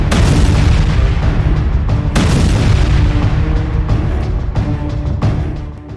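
A barrage of rockets strikes soldiers' barracks, heavy booming impacts rolling one after another in a dense, loud rumble that fades at the end.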